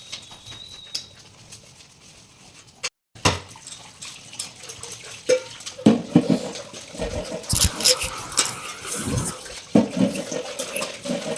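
Water runs from a tap while steel dishes and tea cups are scrubbed with liquid dish soap and clatter, with splashes and knocks growing busier toward the end.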